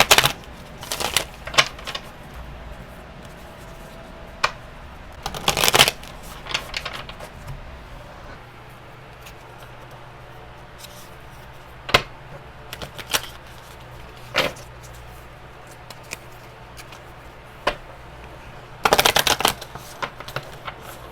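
Hocus Pocus tarot cards being shuffled in bursts of crisp riffling and flicking, with louder clusters near the start and end and quieter handling between, close by and with no talk.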